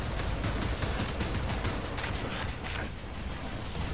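Dense video-game gunfire from Wolfenstein: The New Order crackles continuously as rapid overlapping shots and bursts, loud and harsh throughout, with no clear pauses.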